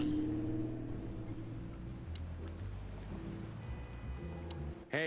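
Steady rain falls in a Chicken Police game scene, a continuous close patter with low droning tones underneath and a brief rising swell at the very end; no one speaks.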